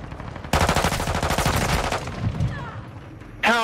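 Rapid automatic gunfire bursts loudly in a Call of Duty: Modern Warfare 2 team deathmatch on the Shoothouse map, a dense stream of shots for about a second and a half, then fading tails and a fresh burst at the end.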